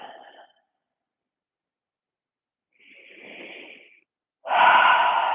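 Long, slow yoga breaths during a flowing practice: a soft breathy exhale, a pause of silence, a gentle airy inhale, then a louder, fuller breath near the end, all close and with no talking.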